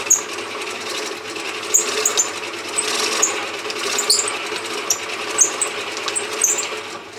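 A pedal-powered Dynapod generator runs on its belt and pulley, giving a steady mechanical whir with rhythmic clicks and ticks repeating about once a second, close and moderately loud with no talk.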